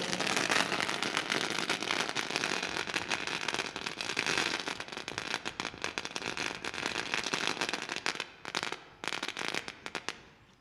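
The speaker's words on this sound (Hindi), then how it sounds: "आतिशबाजी से उनका स्वागत हो रहा है।" Fireworks crackle to welcome a batsman at a village premier league cricket match, a dense, continuous burst of rapid pops and snaps that thins out toward the end.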